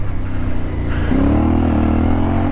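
A CFMOTO 450MT motorcycle climbs hard in second gear off-road, its engine note loud and close and rising into a sustained, strong rev partway through.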